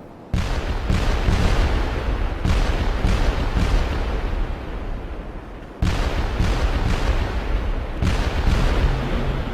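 Heavy, continuous rumbling artillery bombardment with repeated booming blasts, dense and loud, with one brief lull before the pounding resumes, from the World War II battle of Iwo Jima.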